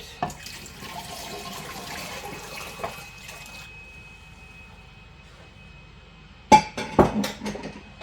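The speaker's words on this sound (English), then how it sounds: "I'm going to put 8 cups of water into my canner" Water from a tap or jug pours into a pressure canner in a home kitchen: a steady stream runs for several seconds, then a louder burst of splashing and clunks near the end, with no talking.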